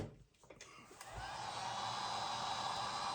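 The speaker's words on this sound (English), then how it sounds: "I'm going to hit it with a heat gun." A heat gun blows over liquid frisket masking fluid on paper, starting with a few soft knocks before its steady, loud rushing whoosh builds up and holds.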